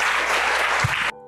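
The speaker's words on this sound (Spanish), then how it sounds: "Un fuerte aplauso" Church congregation applauding during a faith and healing service, a dense, loud burst of clapping that cuts off abruptly after about a second.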